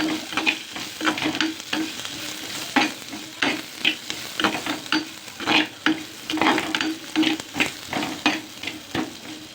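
Chopped large onions fry in hot oil while being stirred, a close sizzling hiss broken by regular scraping strokes of a spoon against the pan, rhythmic and fairly loud.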